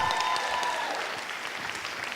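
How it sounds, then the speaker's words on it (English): Audience clapping after a performance at a school Black History oratorical competition, a steady patter of many hands at moderate distance, fairly soft and sustained throughout. "Let's give him a big round of applause."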